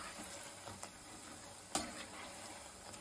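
Onion bonda fritters sizzling steadily in hot oil while being stirred and turned, a soft continuous crackle with a few sharper clicks of the ladle, the loudest near the middle, no talking.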